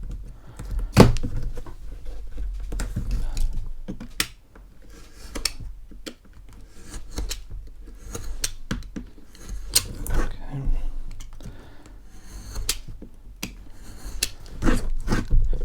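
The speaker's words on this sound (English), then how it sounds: "I'll cut 2 of these just by following the edge with my blade." A blade cuts along the edge of a wing template, a series of soft scratchy slicing strokes and small clicks at close range, with someone talking at times between them.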